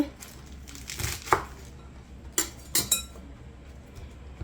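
Several sharp knife cuts through spinach on a board, with crisp crunching and a few metallic clinks, close by and moderately loud with no talking.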